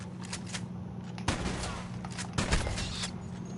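Varmint rifle shots ring out in Red Dead Redemption 2, two distinct sharp cracks a second apart over a low steady game ambience, fairly quiet overall.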